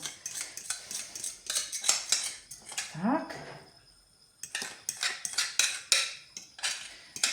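Utensil spreading poured batter in an oiled frying pan, a series of light scraping clinks and taps of metal on the pan, fairly close, with a short quieter pause partway through.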